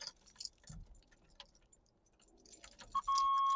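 Keys jingle and a key scrapes and clicks into an ignition, followed by a steady electronic chime tone starting up.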